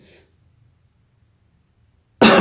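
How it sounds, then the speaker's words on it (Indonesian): A single loud, close cough bursts out suddenly after a couple of seconds of near silence. "Maaf batuk ya sahabat semua."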